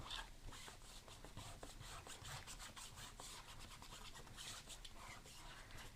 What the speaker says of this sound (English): Super important that you burnish in your stencil.